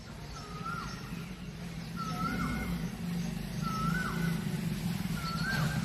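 Asian koel calling from a mango tree: four regularly spaced whistled calls, each with a rising then falling inflection, heard at a distance over steady low ambient noise.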